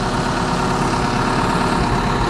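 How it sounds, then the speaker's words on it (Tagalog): Steady low idle of a misfiring, low-power Hitachi EX120-3 excavator engine with a rough, uneven rumble, running continuously and close by with no talk. "Oh, yun, mga palya-palya pa. Oh, mga palya makina."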